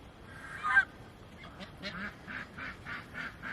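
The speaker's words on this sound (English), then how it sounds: "The geese are talking." Geese on a homestead honk in a rapid series of nasal calls, one louder honk followed by a steady run of rhythmic honks at moderate distance against a quiet outdoor background.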